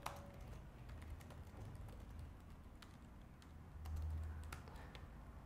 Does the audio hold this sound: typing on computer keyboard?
yes